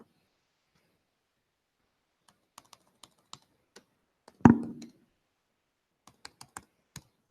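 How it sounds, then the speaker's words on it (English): Typing on a computer keyboard while building a SwiftUI app: sparse, crisp individual key clicks in an otherwise quiet room, broken by one louder thump partway through, with no talk. "Don't pay attention to my typing."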